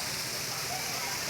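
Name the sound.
mountain waterfall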